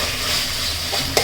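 Onions fried until brown for beef curry, stirred in a pan with a constant close sizzle and a single sharp scrape of the spatula near the end.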